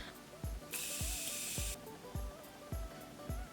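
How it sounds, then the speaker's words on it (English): A single hissing burst of Morphe Continuous Setting Mist being sprayed, about a second long, heard close against a background of regular low thumping beats. "I just sprayed that all over my desk"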